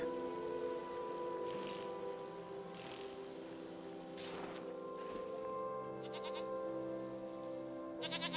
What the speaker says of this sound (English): And goats!